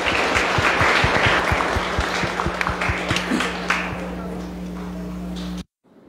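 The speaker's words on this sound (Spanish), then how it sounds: "Un aplauso para ellos" A church congregation applauds at a First Communion celebration, a dense sustained clapping that is loud at first, gradually thins and then stops abruptly, with a low steady hum underneath.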